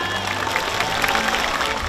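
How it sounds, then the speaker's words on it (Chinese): A large crowd at a free children's theatre show by the Paper Windmill troupe in a rural Taiwanese township breaks into dense, continuous applause, a steady wash of clapping with scattered cheers and voices mixed in. "为他们鼓鼓掌好吗"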